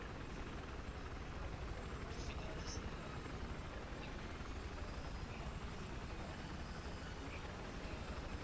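A helicopter in the Battlefield 4 video game gives off a steady, dense engine roar and rotor noise. It stays constant and fairly loud throughout, with a few faint high clicks.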